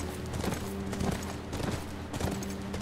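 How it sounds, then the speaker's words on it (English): A horse gallops in the video game The Last of Us, its rhythmic hoofbeats clopping steadily and close for the whole short stretch, with no voices over it. "Why is my horse so slow?"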